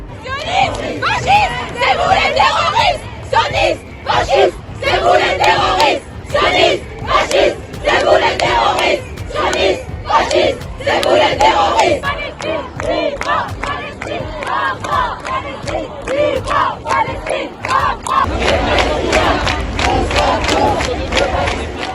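Pro-Palestine protest march at Republic Square, a loud crowd chanting slogans in rhythmic, repeated bursts, close and energetic with shouting voices throughout.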